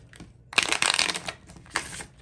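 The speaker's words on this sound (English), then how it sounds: "We'll give these a couple good shuffles" A deck of tarot cards being shuffled makes two quick riffling bursts, close and crisp, the second shorter than the first, with no talk.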